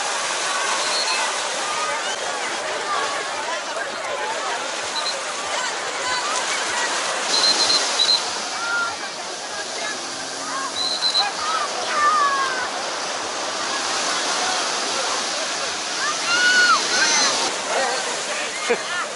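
Sea waves wash and churn around a boat off a Goa beach, producing a constant broad rush of water with occasional splashes, while voices talk and call out over the surf.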